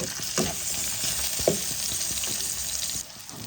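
Tomatoes fry in a pan for a Bengali stuffed pointed gourd dish, giving a steady, close sizzle with occasional stirring scrapes and no talking.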